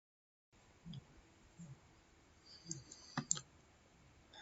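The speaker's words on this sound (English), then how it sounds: "we click continue" A computer mouse clicking while installing website software, a couple of faint, sharp clicks late in an otherwise quiet stretch with low background noise.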